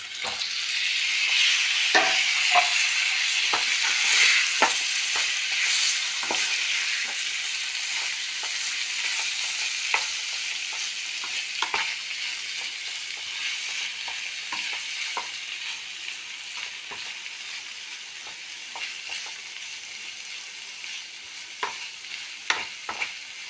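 Boiled potatoes hiss and sizzle in hot oil as they are stirred for a Kerala breakfast curry, a continuous close frying sound broken by occasional spoon scrapes against the pan, with no voices.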